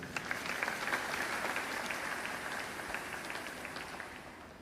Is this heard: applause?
yes